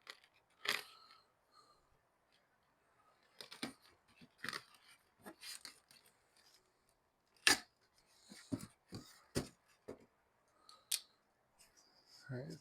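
A box cutter slices open the packaging of a Scion xB armrest in sharp, scattered cutting and tearing snaps. The sounds are close and come between stretches of near silence.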